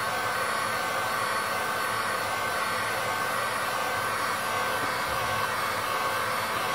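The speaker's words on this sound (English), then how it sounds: "Gently apply heat to that to boil off the suspension so it just leaves the paint behind." Hot air blower steadily heating paint on a soft key switch of an HP 54645 oscilloscope during repair, a continuous loud, even whoosh of blowing air throughout with no talk.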